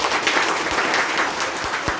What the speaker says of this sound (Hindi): आप सबके लिए जोरदार ताली होना चाहिए